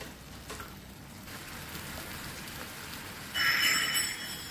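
A vegetable stir-fry with oyster sauce crackles faintly in a pan, then about three tablespoons of water go in and set off a sudden loud, bubbling sizzle near the end.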